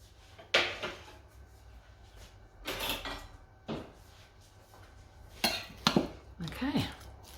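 A spoon stirs dry dehydrated ingredients in a bowl, giving several separate scraping and clinking bursts with short pauses between them, close and moderately loud, with no talking.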